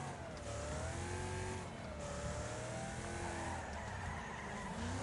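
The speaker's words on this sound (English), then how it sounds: "is the car engine and everything a little too loud?" Racing cars in the Wreckfest video game roar with engines revving, tires squealing and skidding, a steady dense wash of engine noise throughout with no speech.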